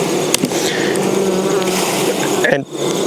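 Honey bees buzz loudly and steadily at close range while a colony is inspected for American foulbrood in late summer, with a few clicks and handling knocks over the hum.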